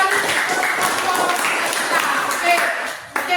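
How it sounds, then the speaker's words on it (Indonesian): A primary-school class claps during a Christian religion lesson, with quick irregular hand claps running throughout, moderately loud and close, under a teacher's speech. "Oke, tepuk tangan lagi."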